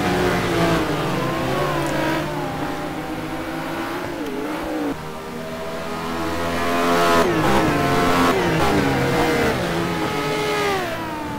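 Several race cars, including Bentleys, lap Laguna Seca in a racing video game, with engines revving and shifting through gears, multiple tones overlapping and swelling as cars pass close, steady and loud throughout with no talking.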